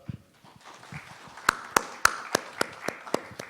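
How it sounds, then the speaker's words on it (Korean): Sparse, sharp claps from a symposium audience at a Korean medicinal crop society conference, a handful of separate hand strikes at a moderate distance in a reverberant hall, quiet between them. "박수 부탁드리겠습니다."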